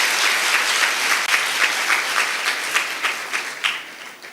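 An audience at a spiritual question-and-answer session claps steadily and moderately loud, a continuous patter of many hands with faint rhythmic peaks, and no speech over it.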